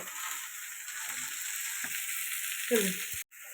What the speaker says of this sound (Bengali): এবার উচ্ছে কুমড়োটা ভাজা হোক